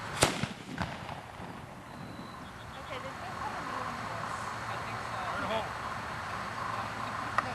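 A single sharp blast goes off right after a fire-in-the-hole warning outdoors, crisp and loud at the start. A steady open-air background follows, with faint voices around.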